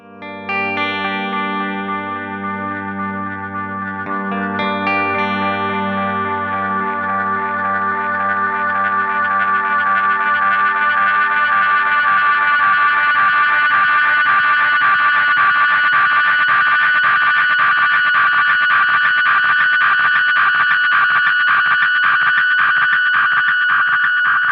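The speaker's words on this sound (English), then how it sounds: "I'll turn up the feedback and get it to self-oscillate." An Adriatic delay pedal with its feedback turned up self-oscillates into a loud, sustained, pitched drone that swells and thickens steadily over about twenty-five seconds, heard alone.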